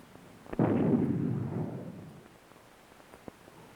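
A Claymore mine goes off during military training with a single sharp blast, followed by a heavy booming roar that rolls out and fades over a couple of seconds, with a few faint pops afterward.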